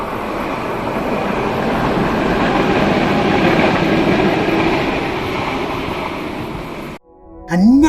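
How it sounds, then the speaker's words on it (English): A German tram rushes past on its tracks at night, a loud, sustained roar of wheels and rails that builds and fades before cutting out, followed by a brief rising squeal close by. "the sound of the trams hurtling past my hammock in the night"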